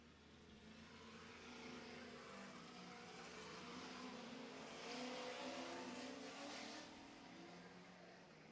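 Racing trucks roar past on a Minneapolis track during a Sportsman day afternoon, heard from about 20 feet away as a steady loud engine drone that swells as a pack passes.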